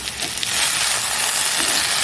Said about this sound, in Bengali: এখানে আলু ভাজা বসিয়ে দিলাম